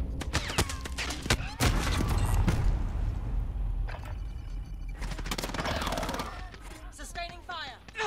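Rapid gunfire from Call of Duty Modern Warfare, with loud, dense bursts of automatic shots, cracks and booms that run nearly throughout and layer over game voices and battle noise.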